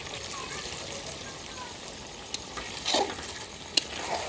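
Goat meat sizzles quietly in a pan as spiced water goes in, giving a soft bubbling hiss with a few small clinks. A faint voice can be heard in the background.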